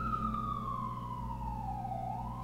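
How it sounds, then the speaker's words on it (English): Emergency siren passing outside a city apartment, a single steady wail gliding slowly downward and then back up, heard through a low background rumble with no one speaking. "sirens next to my apartment."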